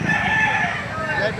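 A gamecock rooster crows close and loud among other fighting cocks on a farm, one sustained call filling the short moment with a faint background murmur.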